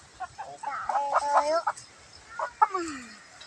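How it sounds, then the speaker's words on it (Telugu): A fighting rooster clucks up close in a few short bursts of throaty, warbling calls separated by brief pauses, loud and clear over quiet background noise. "ఇది పందెం కోళ్ళు?"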